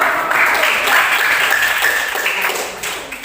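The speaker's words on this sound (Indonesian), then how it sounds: "Tepuk tangan dulu" An audience claps after a group teaching presentation in a classroom, a dense burst of applause that is loud at first and then slowly fades, with a few voices mixed in.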